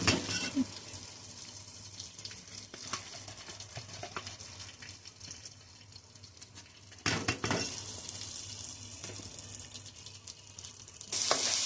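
Rice fries in a small pot with oil, raisins, cashews, cardamom and cinnamon, a soft continuous sizzle with occasional scrapes and knocks, swelling louder near the middle and again at the end.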